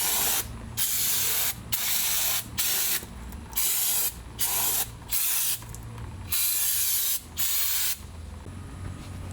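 Aerosol brake cleaner sprayed onto the drum brake assembly of a 1999 Toyota 4Runner, heard as about nine close, loud hissing bursts of varying length separated by short pauses.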